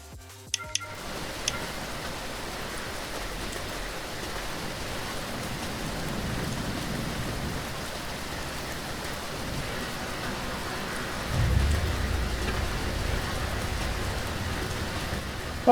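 Rain in the BeamNG driving game, a steady soft patter and hiss of drops on a car while it drives, with a low rumble swelling near the end and a few clicks at the start.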